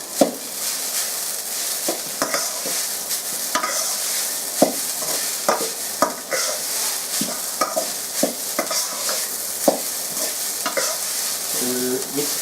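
Pork for sweet pork is stir-fried in a pan, a continuous close sizzle broken by repeated sharp spatula scrapes and knocks against the metal at an uneven rhythm, with no talking.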